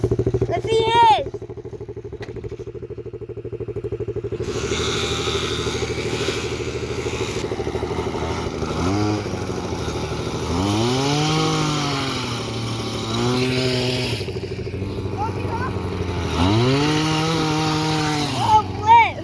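A mini bike engine revs hard through a burnout, its pitch rising and falling in repeated surges over a steady idle drone, close and loud, with people shouting and talking throughout.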